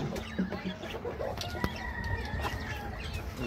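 Chickens being let out, with bursts of wing flapping and a few clucks, close by and moderately loud over a faint background.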